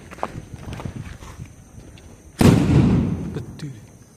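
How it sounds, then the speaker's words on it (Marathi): A 5 star firecracker bursts during Diwali celebrations outdoors, one loud sharp blast about midway whose broadband crackle decays over a second or so, after quieter footsteps and background activity. "5 स्टार फटाका."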